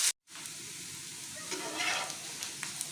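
Okra (bhindi) sizzles steadily in a hot pan, a continuous hissing fry with a brief cut near the start and slight swells of crackle, no voices.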